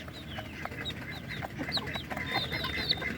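Hens and chicks in a backyard poultry setting, a hen that pecks its chicks hard clucking in short repeated calls and high chick peeps scattered over a steady busy background, close and moderately loud throughout.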